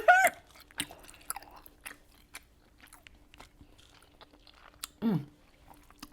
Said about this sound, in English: Those rice cakes are so damn chewy.